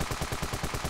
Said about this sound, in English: So this looks like a M16 kind of thing. Machine gun.